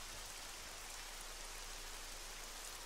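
Steady rain in the military video game ArmA 3, a dense even hiss of drops on surfaces running unbroken and fairly close throughout.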